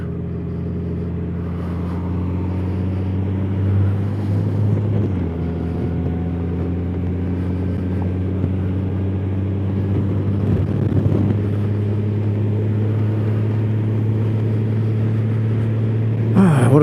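Motorcycle riding along a road on a sunny day, a steady low engine drone with a constant harmonic hum and faint wind noise running throughout, swelling slightly near the end.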